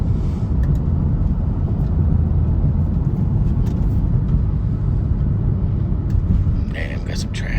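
A small German car driven in sport mode gives a steady, loud, low rumble of engine and road noise, heard from inside the cabin, with a voice now and then.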